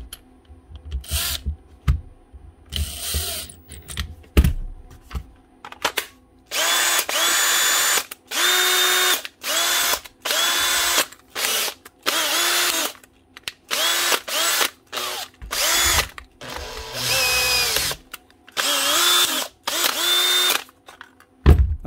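A repaired Makita DHP 482 cordless drill with new brushes runs in repeated bursts, its motor whirring up and cutting off many times in a stop-start pattern, loud and close.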